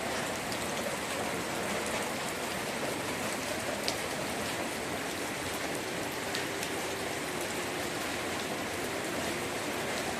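Steady rain falling during an outdoor morning news broadcast, a dense, even hiss of drops on surfaces that continues without a break, fairly loud and constant, with no voices over it.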